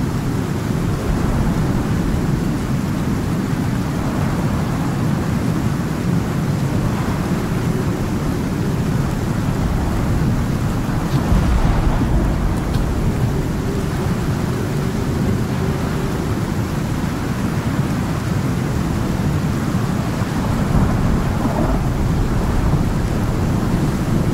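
Thunderstorm in the survival game Icarus: a steady, dense roar of rain and rolling thunder fills the whole stretch, with a slightly heavier swell near the middle and no pause throughout.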